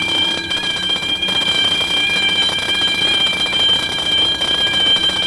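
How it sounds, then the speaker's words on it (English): A prison alarm blares in a movie, a loud, continuous electronic ringing with steady high-pitched tones that holds unbroken at full volume for the whole stretch, with no voices over it. "The alarm goes off."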